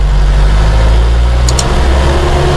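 A car pulls away from a stop on an uphill road, its engine humming low and steady with a rising note, and a pair of brief sharp clicks partway through.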